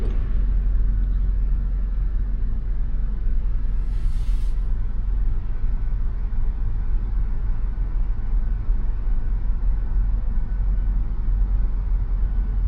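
A car rolls slowly backward in reverse with no gas applied, on a Florida driving test course. The engine holds a steady, close, low idle rumble throughout, with no talking.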